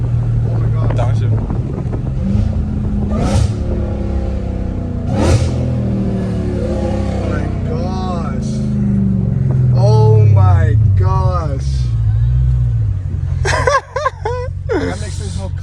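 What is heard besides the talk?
Dodge Hellcat Redeye with catless pipes downshifting, loud exhaust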